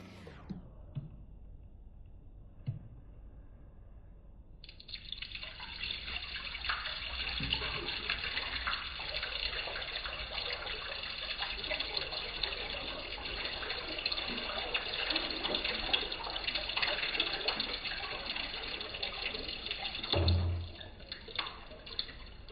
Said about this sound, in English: let me go and empty and rinse this out